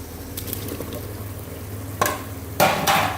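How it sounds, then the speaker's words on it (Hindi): Chopped tinda and green chili going into a hot pot of chicken for tinde gosht, a low continuous sizzle with two sharp bursts of hiss as the vegetables hit the oil near the end. "अब मैं इसमें सब्ज़ी डालने लगी, टिंडे और हरी मिर्च कटी डाल।"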